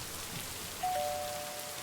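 Rain falls in the video game Lake as a soft, steady, even hiss, faint and unbroken, with a thin tone entering midway.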